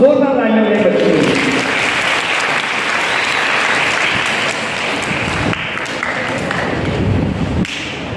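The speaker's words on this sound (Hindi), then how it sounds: "मतलब जोरदार तालियां मेरे बच्चों के लिए।" Loud, energetic applause for children at an inter-school quiz competition, dense clapping from a close audience lasting several seconds with some thumps and a voice partly audible underneath.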